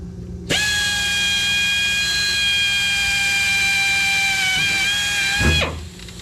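A power drill bores a hole from underneath into the tub of a 1966 Jeep CJ5, a steady high whining drone lasting about five seconds with a slight dip in pitch under load before spinning down.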